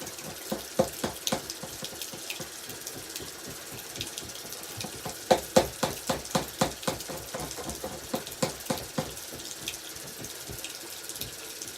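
Water runs from a garden hose, making a soft steady splash with a string of rhythmic spurts and sputters, faint and nearby with no talking.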